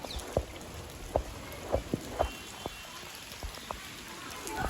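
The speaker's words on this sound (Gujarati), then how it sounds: "રાતનો લગભગ વરસાદ ચાલુ જ છે થોડો થોડો" Light rain falling outdoors on an early morning after a night of steady drizzle, heard as scattered soft drops and a few sharper taps over a faint, continuous wash, fairly close, with no talking.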